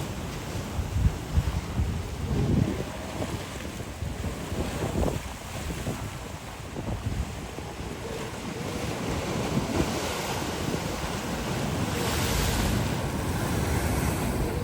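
Heavy surf crashes continuously at La Jolla Cove, San Diego, with a rushing, roaring wash and gusts of wind buffeting the microphone; no voices.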